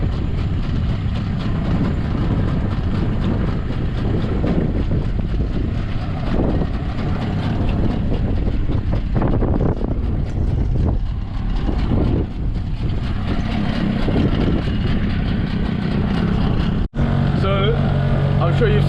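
A main boat motor runs on a river past high embankments, a loud, steady engine drone with continuous water noise that holds throughout, briefly interrupted by a sharp click near the end.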